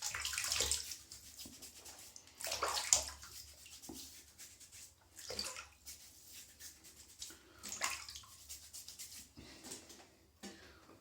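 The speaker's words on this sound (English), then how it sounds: "I'm just going to wet the face." Water is splashed onto the face at a sink before shaving, giving about six quiet, close splashes at irregular intervals with faint dripping between them.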